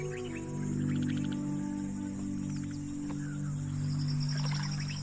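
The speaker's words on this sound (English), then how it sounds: "These waterholes attract a huge variety of birds." Birds call around waterholes in Yala, Sri Lanka, with short repeated chirps and trills in the mid distance over a low, steady droning background.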